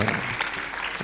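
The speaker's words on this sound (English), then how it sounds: "a big applause" An audience at a talks event applauds the Minister of Energy, a brief, continuous burst of clapping filling the whole moment at moderate volume.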